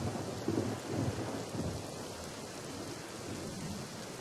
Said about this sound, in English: I also like to add rain ambience.